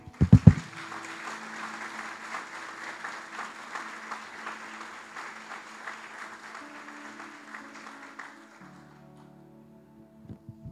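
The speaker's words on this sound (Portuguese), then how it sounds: "Aplauda ao Senhor." A church congregation breaks into sustained applause after a pastor's call, with steady dense clapping from the crowd that slowly fades out under a low sustained organ or keyboard tone.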